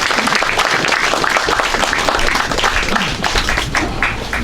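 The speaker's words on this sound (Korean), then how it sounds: "우리 좀 힘찬 박수로 좀 성원하시면서 모시도록 하겠습니다." An audience at a memorial commemoration applauds vigorously as an elderly guest is brought to the stage, loud close clapping with distinct hand strikes mixed with low shuffling and crowd noise.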